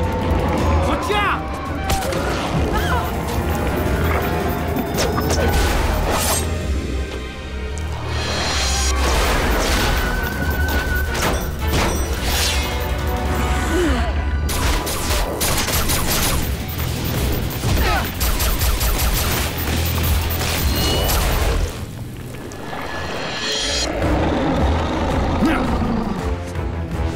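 Cartoon gunfire and crashing from an animated G.I. Joe Renegades action scene, dense and loud throughout, with booming impacts and shouted voices mixed in over a constant roar.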